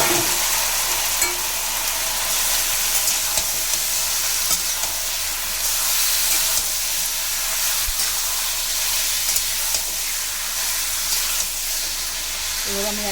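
Mutton pieces for keema hit hot oil with whole garam masala in a kadai, giving a loud, steady sizzle and hiss with occasional stirring scrapes, continuous and close.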